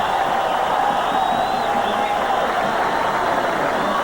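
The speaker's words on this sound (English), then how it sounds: "Listen to the crowd." A steady, loud crowd roar fills a baseball stadium during the 1987 MLB All-Star Game, with a dense wash of cheering that holds level from start to end and no clear talk on top.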